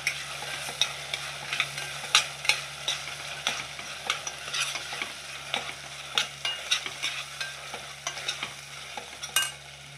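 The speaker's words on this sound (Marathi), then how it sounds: "आपला मसाला चांगला व्यवस्थित भाजला पाहिजे" Onion and coconut masala roasts in a pan for vajri masala, a soft steady sizzle broken by repeated scraping strokes of a spatula stirring at an irregular pace, close and fairly quiet, with no voices.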